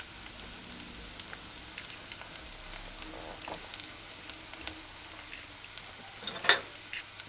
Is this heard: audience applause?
no